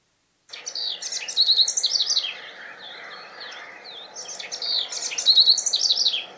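Wren song of repeated shrill, high chirps and trills, delivered in two clear bursts separated by a short pause, loud and close with no voices.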